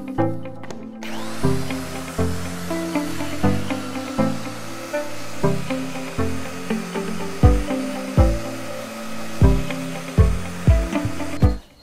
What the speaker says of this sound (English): with the sander. Like I said, we're going to try and take them back to the original sort of golden virgin timber colour.